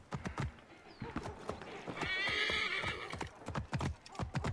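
Horse hooves clip-clop in a quick, steady rhythm in Assassin's Creed Origins, and a loud whinny breaks in midway before the galloping hoofbeats carry on alone.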